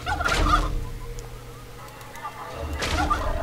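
A chicken gobbles and squawks loudly in two bursts as it is struck in the video game The Baconing, with a quieter stretch of game sound between the cries.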